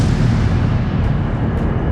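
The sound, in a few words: explosion on the Deepwater Horizon drilling platform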